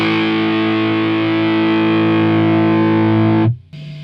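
Electric guitar played through a modified Marshall 1959 Plexi amp on the second clipping setting, a thick, high-gain distorted chord sustained loudly for about three and a half seconds before being cut off, then a quieter held tone.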